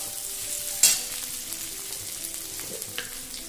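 Cauliflower florets and potato chunks sizzle steadily in a hot pan for a vegetable biryani, with a sharp scrape of stirring near the start and continuous frying hiss throughout, no voices.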